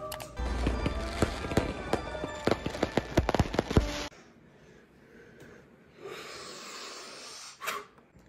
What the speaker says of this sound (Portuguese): Bem na hora dos fogos.